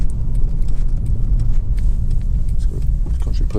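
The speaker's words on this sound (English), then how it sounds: "when you put your foot down, that is just an astonishing engine" A Honda Accord 2.4 i-VTEC sedan engine accelerates with a steady, loud rumble under road noise, heard from inside the car.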